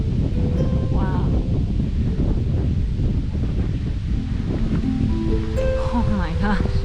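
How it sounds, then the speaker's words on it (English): Strong wind buffets the microphone outdoors at a castle ruin in the German Alps, a loud steady roar throughout, while a person talks over it. "The wind is picking up"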